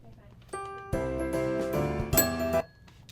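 The Christmas song O Christmas Tree played as a short tune in a holiday game show, bright bell-like notes in a steady melodic run that ends abruptly.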